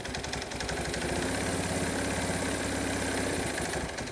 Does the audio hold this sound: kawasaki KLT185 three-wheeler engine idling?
yes